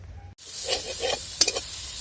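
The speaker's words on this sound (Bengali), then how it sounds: "আমাদের মশলা এখনো কষা চলছে সুন্দরভাবে কষিয়ে নেব" Spice paste for a tuna fish curry sautéing in a pan, a soft sizzling hiss with a few brief stirring scrapes and a small clatter, fairly close, no talk.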